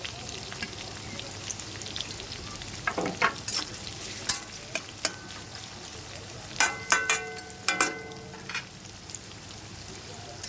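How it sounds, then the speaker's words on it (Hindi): Onions sizzle and crackle in a hot pan steadily, with scattered sharp pops and stirring scrapes, close by and moderately loud. "इसके अंदर मैंने बड़ी 2 प्याज काट के रखी हुई, ये डाल दूँगी।"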